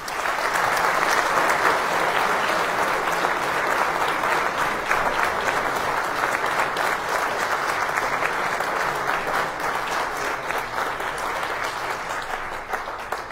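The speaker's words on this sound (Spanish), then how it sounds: "Le damos nuevamente un aplauso." Sustained applause from a seated audience at a conference on Blessed Juan de Palafox and Puebla Cathedral, a dense, steady patter of many hands that runs evenly throughout and thins slightly toward the end.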